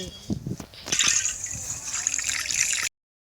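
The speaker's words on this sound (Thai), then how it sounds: "แล้วก็จะเอาบรอกโคลีมา ต้ม" Broccoli boiling in a pot of water, a steady bubbling, hissing wash that swells after a brief start of clatter and keeps going at close range with no talk over it.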